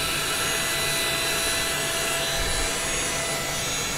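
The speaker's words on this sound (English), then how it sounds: "I'm just going to use my my vacuum here to clean it up" A vacuum cleaner runs continuously at close range with a steady, loud whooshing roar while cleaning up a Bambu Lab A1 3D printer.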